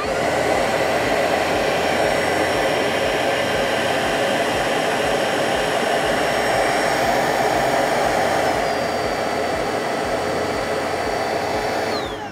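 A Tornado cordless floor cleaning machine runs with a steady, loud motor whine and rushing airflow, holding constant before the pitch drops slightly and it cuts off at the very end.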